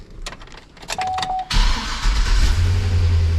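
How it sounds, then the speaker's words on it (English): An old single-cab dually pickup truck, just tuned up, turns over: a few clicks and a short tone, then the engine catches abruptly and settles into a loud, steady, close idle with no talking. "let's go start it, see if it even runs"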